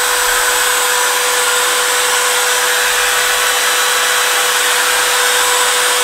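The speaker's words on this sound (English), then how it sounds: "Let me start up this Makita. It'll be pretty loud on my microphone." A Makita router motor spins freely on an MPCNC machine, giving a loud, constant high-pitched whine with a steady tone and hissing airflow, close to the microphone and with no talking.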